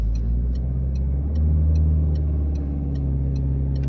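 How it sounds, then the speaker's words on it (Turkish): The right turn signal of a car ticks steadily at an even pace over a loud, close engine rumble inside the cabin during a driving lesson. "Sağ sinyalimizi yaktık."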